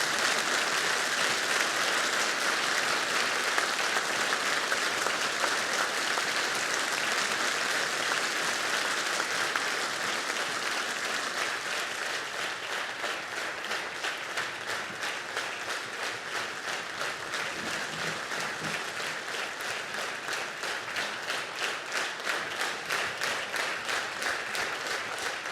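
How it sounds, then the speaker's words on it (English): Sustained applause from a large audience at a summit of first ladies and gentlemen, steady dense clapping that continues unbroken for the whole stretch, fairly distant and even, with no talk over it. "Listen to this applause."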